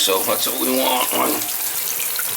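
Water gurgles and rushes steadily down a tub-shower drain that has been backing up. A person talks over the first part of the flow.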